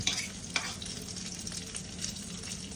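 Three eggs with broccoli and onion fry in olive oil in a pan, a soft, continuous sizzle with a few brief stirring scrapes, fairly quiet and without talk.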